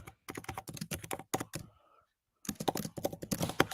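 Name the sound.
typing on a laptop keyboard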